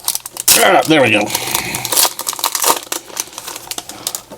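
A Superman trading card pack wrapper crinkles and tears open close by in a burst of sharp crackling rustles, followed by softer handling clicks while someone speaks briefly.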